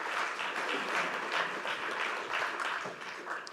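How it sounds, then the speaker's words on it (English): Conference audience applauding a speaker at a fisheries and aquaculture event, a soft, even wash of many hands clapping, somewhat distant and continuous. "warm round of applause for Javier"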